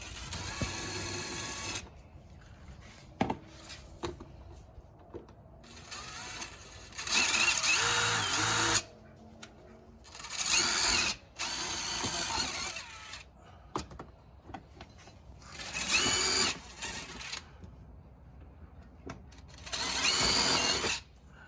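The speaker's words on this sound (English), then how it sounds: "And then you take your 1/8 inch drill bit and you drill your hole." A power drill with a 1/8 inch bit whirs in several bursts of a second or two each, drilling holes in a side-by-side's fenders, separated by short quiet gaps, close and fairly loud, with no talking.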